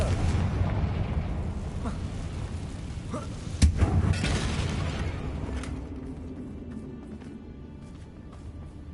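A blasting-spell explosion in Hogwarts Legacy, a sharp loud crack and boom that rolls into a dense rumbling blast before slowly fading into a quieter background hum; no talking.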